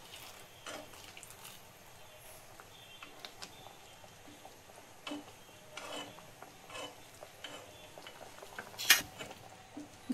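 A spoon stirring kheer in a cooking pot over medium heat, with faint scraping and soft clinks of metal against the pot, quiet and close, with occasional louder taps.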